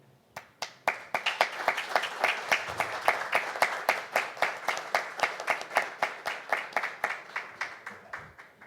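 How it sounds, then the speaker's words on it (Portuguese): A round of applause at a formal council session marking 50 years of Administration in Piraí: a clear, rhythmic run of fairly loud, close hand claps, nearly evenly spaced, continuing steadily without talk. "dar uma salva de palmas para os administradores brilhantes aqui do município"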